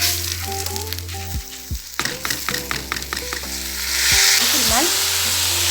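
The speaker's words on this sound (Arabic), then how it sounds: "الشعريه اتحمرت معايا خلاص كده اهي. هبدا اضيف عليها الرز اللي انا غسلته." Vermicelli sizzles as it fries in oil in a pot, with scraping stirs and clinks of a utensil, then washed rice is added, bringing a louder, hissing burst of frying.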